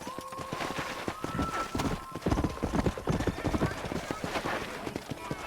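Horse hooves clip-clop steadily in Red Dead Redemption, a close trotting rhythm joined by a brief whinny, while a rider's voice calls out over the hoofbeats.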